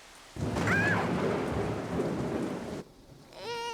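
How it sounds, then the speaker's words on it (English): A loud roll of thunder rumbles over steady heavy rain, then cuts off, followed by a high warbling chirp near the end. "the flashes and thunder scared him too"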